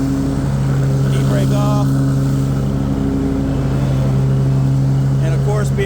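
A 48-inch Cub Cadet Tank L48 commercial-grade zero-turn riding mower holds a loud, steady engine drone throughout, with a short spoken remark partway through.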